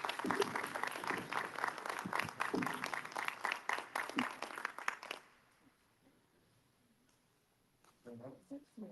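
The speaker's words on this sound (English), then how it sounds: "Let's give her a big round of applause and thank you for coming to Huntsville." Audience applause at a pop culture expo panel in Huntsville: a burst of clapping that holds for about five seconds, then fades to near silence before a voice speaks.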